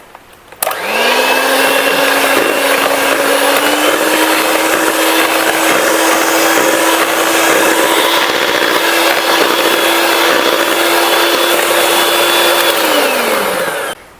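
An electric mixer beats pear cake batter after sour cream is added, switching on with a loud, close motor whine that holds steady for over ten seconds before winding down.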